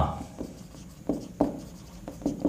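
Marker or chalk writing on a board during a physics lesson, a short run of scratchy strokes and taps coming at an uneven pace, close and fairly quiet, with no talking over it.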